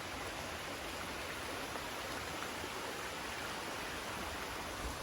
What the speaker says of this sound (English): Got the creek right here by us.